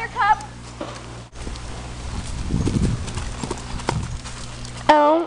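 A stallion's hooves clip-clop in a quick rhythm as the horse bolts, the beats rising mid-clip, with high squeaky voices briefly heard at the start and end.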